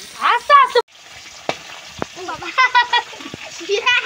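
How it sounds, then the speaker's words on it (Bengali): Pieces of shimul fish fry in hot oil for a curry, a steady close sizzle and crackle running throughout while someone talks over it and the fish is turned. "মাছগুলো কত সুন্দর করে ভাজা হচ্ছে দেখো।"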